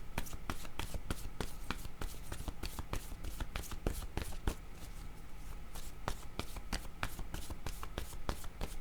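Tarot cards shuffled by hand in a quiet room, a steady run of crisp riffling and flicking slaps that repeats without pause, close and fairly soft, with no talking.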